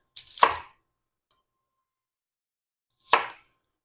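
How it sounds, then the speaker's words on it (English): A knife chops through a sweet onion on a cutting board, two sharp, close cuts spaced a few seconds apart with quiet in between. "Now let's cut up our sweet onion."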